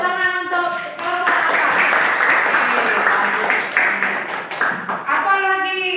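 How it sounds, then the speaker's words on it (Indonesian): A classroom of students claps for a student group, a dense burst of applause rising after a brief spoken word and fading as a voice returns near the end. "Ya, tepuk tangan untuk kelompok"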